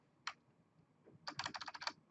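Keystrokes on a computer keyboard while setting up network router configuration: one isolated click, then a quick burst of about ten rapid, evenly spaced taps, close and fairly quiet, with no talking.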